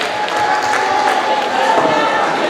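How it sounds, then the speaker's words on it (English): Audience applause at a youth economic development panel, a steady wash of clapping hands that fills the room for a few seconds, loud and continuous, with faint voices mixed in. "Let's give her applause."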